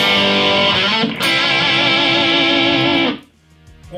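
Electric guitar played through a Kemper Profiling Amp on a distorted 'clean' slot, loud sustained crunchy chords ringing for about three seconds, then cut off to near silence.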